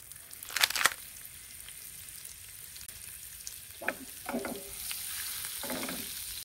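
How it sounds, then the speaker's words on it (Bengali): Butter added to hot olive oil in a frying pan gives a sharp burst of sizzle, then a quieter steady frying hiss with a few soft scraping stirs. No one talks. "অলিভ অয়েল দেওয়ার পর দিয়ে দিচ্ছি একটু বাটার।"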